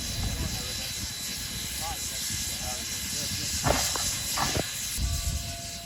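Narrow gauge K27 steam locomotive number 463 hisses steadily at a station stop, a constant breathy wash with brief louder bursts and faint voices nearby.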